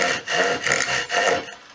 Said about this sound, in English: I'm just going to be using my pruning saw